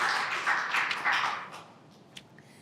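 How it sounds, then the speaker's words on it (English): Applause from the audience at a border security and immigration press conference, a dense burst of clapping that thins and fades away within about two seconds, with a last stray clap near the end. "I just really wanted to give her a round of applause and appreciation."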